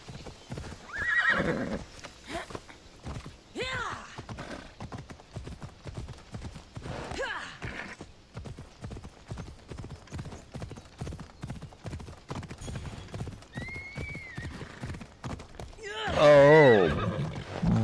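A horse in Assassin's Creed Odyssey gallops with rapid rhythmic hoofbeats and neighs loudly several times, with a sharp whinny near the end.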